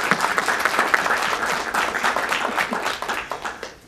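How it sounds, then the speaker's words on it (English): An audience at a St. Clair Shores waterfront environmental committee meeting claps for scholarship sponsors and donors, a lively, uneven round of applause from a modest crowd that rises, holds and then thins out near the end. "I just want to, if we can give them a big round of applause."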